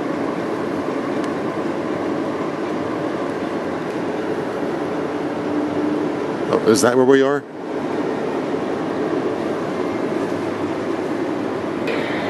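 Train at a station with a steady low rumble and hum throughout, a short burst of squealing metallic noise near the middle, and a voice speaking briefly.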